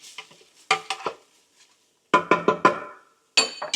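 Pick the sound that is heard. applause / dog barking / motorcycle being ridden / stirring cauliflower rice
stirring cauliflower rice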